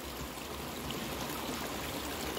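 Creek water flowing nearby outdoors, a steady, dense rushing babble that stays even and fairly loud throughout with no talk over it.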